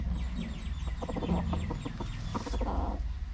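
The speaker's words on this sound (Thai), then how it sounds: "นี่เป็นไก่โต ไก่โตไก่ปลาครับ" A tame decoy chicken clucks in a quick run of short, bursting notes, close by, over a low background hum.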